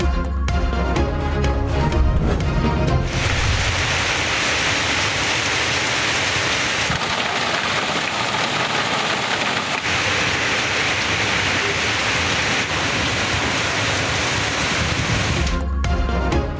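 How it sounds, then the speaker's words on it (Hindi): Heavy storm rain pours down over Islamabad and Rawalpindi as a loud, dense, unbroken hiss that holds steady for the whole stretch, with no voices over it. "इस्लामाबाद और रावलपिंडी में तूफानी बारिश।"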